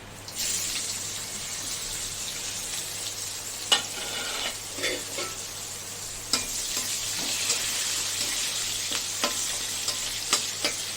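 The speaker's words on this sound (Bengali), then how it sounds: "পেঁয়াজটা ভাজা ভাজা হোক তারপর" Continuous close sizzling of onion frying in oil, with scattered scraping clicks of stirring throughout, fairly quiet and without voices.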